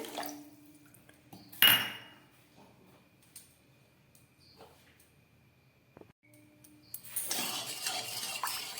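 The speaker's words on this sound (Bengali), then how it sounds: "চিনি আর জল দিয়ে খুব ভালো করে নেড়ে নিচ্ছি চিনির শিরা তৈরি করার জন্য" Sugar and water are stirred in a pot to make syrup: quiet scattered clinks of a utensil against the pot, one sharp clatter early on, then a louder stretch of scraping and swishing at the end.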